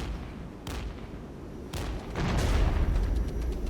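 Rocket artillery strikes in the Regiments war game land in three heavy booming bursts, the last one swelling into a longer rumbling barrage.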